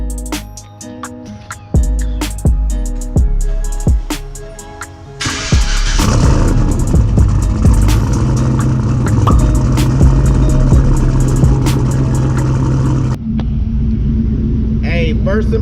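A turbocharged LS V8 swapped into a Nissan 240SX cranks with several heavy, uneven starter-and-misfire bursts, then catches and settles into a loud, lumpy, rumbling idle close by before dropping in level near the end.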